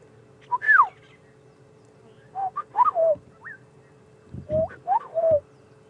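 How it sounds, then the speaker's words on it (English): A black-headed oriole calls at dusk on a safari drive, giving several short, liquid, fluting phrases in brief clusters, fairly near and clear over a quiet, low background hum. "this is the black-headed oriole, and this is a bird we hear often, but we don't see them very often."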